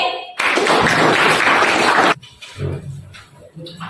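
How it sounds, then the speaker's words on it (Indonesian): A class of students claps for a group in a loud, dense burst lasting under two seconds, then it stops abruptly, leaving scattered faint knocks and murmurs in the room. "tepuk tangan untuk kelompok ini"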